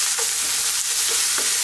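Eggplant and potato curry with ginger paste fries in a pan and is stirred, giving a steady bright sizzle with a few soft scraping strokes, close and continuous, with no talk.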